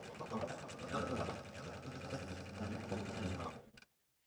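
Sewing machine stitching squirrel accessory fabric pieces together, a close, steady mechanical whir for nearly four seconds before stopping abruptly, with a voice partly under it.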